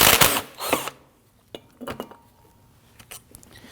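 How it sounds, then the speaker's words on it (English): A ratchet loosens the two 13 mm slide pin bolts on a rear brake caliper of a 2013-2019 Ford Interceptor Utility: a loud clattering burst up front, then scattered sharp metallic clicks and taps, close and with no talking. "I want to go ahead and remove the 2 slide pin bolts here, the 13 millimeter. Loosen and remove these."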